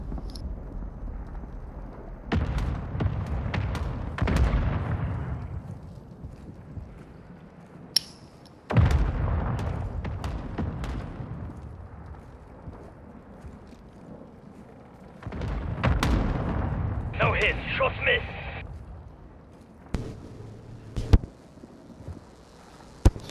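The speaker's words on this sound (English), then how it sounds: "Mortar strike inbound now." Mortar strike in Call of Duty Warzone 2, several heavy booming explosions landing at uneven intervals, some close and loud with rumbling tails, others more distant, separated by quieter gaps.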